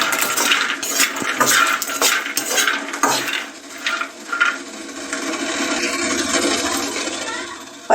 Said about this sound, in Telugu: పచ్చిమిరపకాయలు పల్లీలు నేను నూనె చొక్కు అయిపోకుండా వేపుతున్నానండి చట్నీకి ఇడ్లీల్లోకి